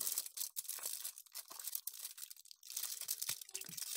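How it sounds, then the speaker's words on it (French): Thin aluminium foil around a chocolate bar is peeled back and crinkled, giving soft, quiet, continuous crackling with small crunchy bursts at close range, and no voices over it. "Et pendant qu'Amélie ouvre le papier alu"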